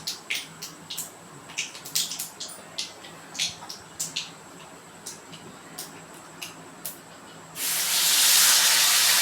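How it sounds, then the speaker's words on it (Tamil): Mustard seeds and urad dal splutter in hot oil in a kadai while tempering for mint chutney: scattered sharp pops and crackles, close and fairly loud, then a dense, steady sizzling hiss near the end. "கடுகு பொரிஞ்ச மாதிரி உளுத்தம் பருப்பும் கொஞ்சம் பொரியட்டும்."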